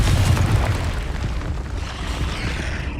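Blasting explosions from the Confringo spell in Hogwarts Legacy, a loud booming burst up front that settles into a sustained rumbling roar throughout.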